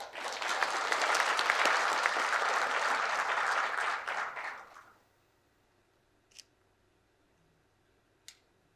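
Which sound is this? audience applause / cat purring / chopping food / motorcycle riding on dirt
audience applause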